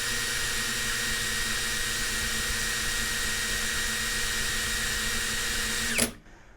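A cordless DeWalt or Ingco impact drill spins steadily at its top speed setting with a loud, constant whine, then stops abruptly near the end.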